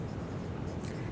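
Chalk or marker scratching on a classroom board during a physics lesson on convex mirrors, a short continuous faint scraping with no voice over it.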